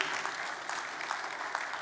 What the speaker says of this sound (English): you can give the Lord a clap.